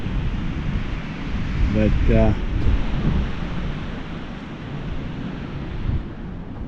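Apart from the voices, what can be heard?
wind blowing outdoors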